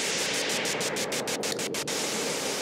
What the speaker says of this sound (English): Sequencer is very fun with a noise sound like this.